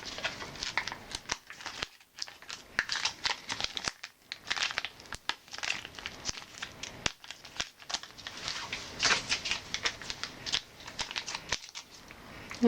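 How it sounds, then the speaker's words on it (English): Scissors cutting open a relaxer activator packet, a faint run of close snips, crinkling and crackling plastic over about thirteen seconds, with soft handling noise between cuts and no talking. "We're gonna have to cut the activator."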